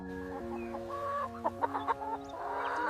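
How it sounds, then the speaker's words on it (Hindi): Hens on a poultry breeder farm that keeps fertilized-egg layers cluck and murmur steadily in the background, with a few sharper calls rising from the flock. "यहाँ वो मुर्गियां रहती हैं जो फर्टिलाइज्ड अंडे देती हैं"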